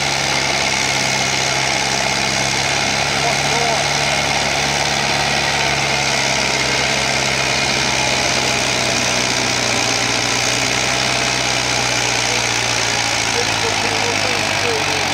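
A John Deere 844S tractor engine idles at a tractor pull, a steady low mechanical rumble with constant vibration that holds unchanged and fairly close, with faint background voices.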